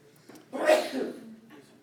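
A single short sneeze bursts out nearby in a lecture room, quick and moderately loud, followed by quiet.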